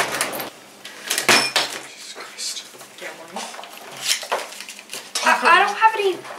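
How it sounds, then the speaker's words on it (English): Silverware and spoons clink and rattle against dishes in short bursts, close by, mixed with people talking throughout. "You have silverware. You have a spoon."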